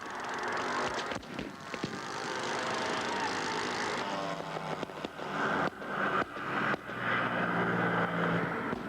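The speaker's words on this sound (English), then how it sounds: "Giant B-25s, heavily loaded with 500-pound bombs, lumber off the runway." Heavily loaded B-25 bombers roar as they take off from a runway, a loud, sustained engine drone with propeller rumble that shifts in pitch as the aircraft pass, with no talking.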